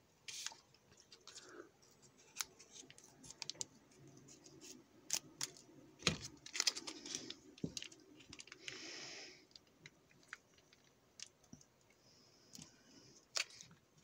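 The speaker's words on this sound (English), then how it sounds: "Let's get the strawberry jam open. So we've got some scissors." Scissors snip open a strawberry jam packet from an almost out-of-date MRE ration, heard as a scattering of quiet, sharp clicks and crinkles close by, with soft rustling between the cuts and no talk.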